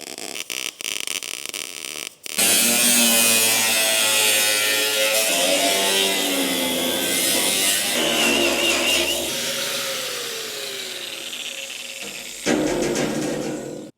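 Steel plate being cut for a homemade shop wood heater, a loud continuous grinding whine with shifting tones that runs for about ten seconds after a few brief starts, close up with no talk.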